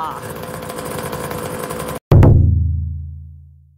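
A Honda NSR250R motorcycle engine runs with a steady buzzing drone after a new pulse generator is fitted, then cuts out abruptly; a louder low rumble follows and fades away.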